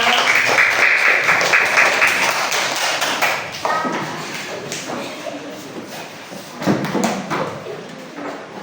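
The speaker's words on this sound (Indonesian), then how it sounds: "Tepuk tangan." Students in a classroom clap their hands together, a burst of close, busy clapping that gradually thins out, with voices mixed in.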